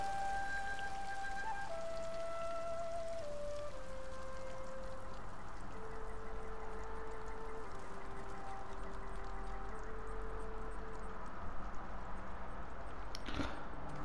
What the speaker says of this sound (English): Oh, I can't be dealing with rain when we're near a shrine.